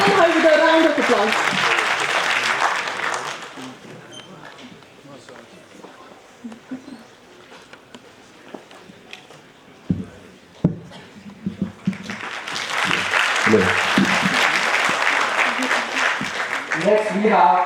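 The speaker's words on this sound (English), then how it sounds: "Let's welcome her with a round of applause." Audience applause at an exam felicitation ceremony honoring ranked candidates, a loud burst of clapping that fades, a quieter stretch with scattered thumps, then a second strong round of applause.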